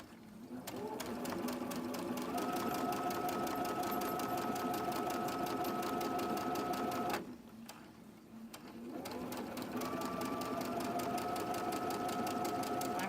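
A sewing machine stitches quilt pieces in a fast, steady mechanical whir with rapid needle ticking, running for several seconds, pausing briefly, then starting up again, close and clear.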